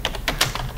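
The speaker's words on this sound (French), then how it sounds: "Donc je sélectionne ma plage, le clavier, je fais CTRL C" A computer keyboard is pressed for a copy shortcut, giving a few quick, close, crisp key clicks in a short burst with no talking.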